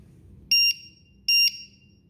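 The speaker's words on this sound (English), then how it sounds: "We've got this little voltage alarm." Low-voltage alarm on a drone battery pack for a JJRC MO2 VTOL model, two sharp loud high-pitched beeps of equal length spaced under a second apart over quiet background.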